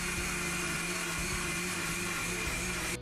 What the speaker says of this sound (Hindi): इसको मिक्सी में एकदम फाइन पेस्ट